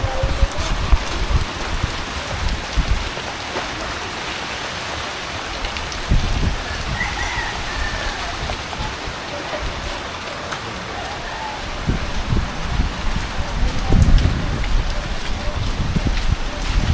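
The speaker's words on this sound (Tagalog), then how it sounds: "Ulan." Steady heavy rain pouring down, a dense constant hiss with occasional louder splashes and thumps nearby.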